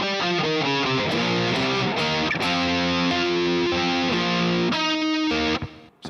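Distorted electric guitar playing a rhythm riff, with chugging palm-muted power chords and sustained chords, steady and loud before cutting off near the end.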